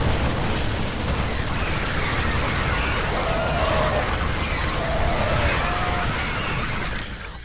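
A StarCraft II battle of 80 Zerglings against 40 Marines on equal 1-1 upgrades, a dense, loud wash of continuous gunfire and combat noise that fades slightly at the end.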